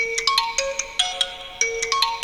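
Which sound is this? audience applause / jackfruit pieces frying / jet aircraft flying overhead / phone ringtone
phone ringtone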